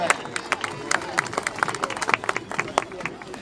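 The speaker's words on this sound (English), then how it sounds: "Round of applause." An audience at a dance-off at the Stade gives a short burst of scattered, uneven claps, with crowd chatter and talk mixed underneath.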